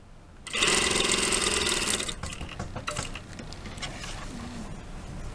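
A sewing machine stitches a pocket seam on tailored shorts, running in a fast, steady whir for about a second and a half before slowing into a few uneven stitches and handling noises, close and clear with no talk.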